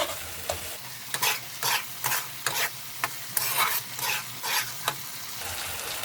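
Eggs go into a simmering egg and pea curry in a pan, bringing a run of repeated stirring and scraping clatters with bursts of sizzling over a steady bubbling background, close and moderately loud.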